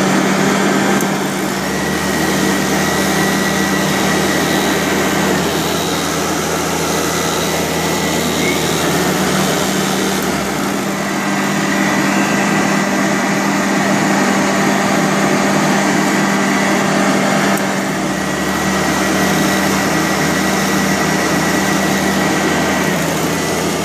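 Vacuum cleaners from Sanitaire, Eureka (model C2094) and Hoover run loud and close, a steady whining motor drone with a lower hum that drops out and returns twice, and no talking.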